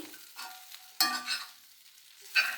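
Spatula stirring a masala vegetable bread stir fry in a pan, a few short scraping strokes with soft sizzling in between, close and alone.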